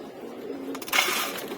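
Domestic pigeons coo softly nearby in a short, low murmuring call, followed by a brief rustle of wings or movement, with a voice faintly in the background.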